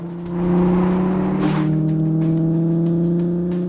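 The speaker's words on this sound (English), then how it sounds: "That's not exhaust noise. That's an actual engine." A classic car engine in a racing video game revs up and holds a smooth, deep, steady drone with strong low harmonics, close and loud, no voices.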